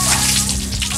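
Running shower water splashes steadily and close by after a day on the sand in Ilocos, Philippines, a continuous hissing spray lasting about a second with no voices over it.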